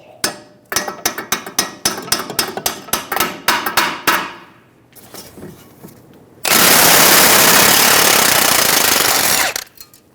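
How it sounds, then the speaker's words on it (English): Rapid, loud metallic hammer blows strike the steering knuckle near the ball joint of a 2007-2011 Toyota Camry, about fifteen hits in quick succession, followed by a long, harsh, continuous mechanical roar. "Using a hammer, we're going to hit around the knuckle near the ball joint and release the tension on the stud."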